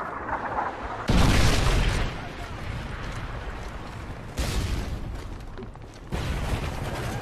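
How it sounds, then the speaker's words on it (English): A Predator missile strike lands in Modern Warfare 3, sounding as heavy, loud booming blasts in three separate surges, each with a sudden broadband onset followed by a rumbling tail. "Friendly Predator missile inbound."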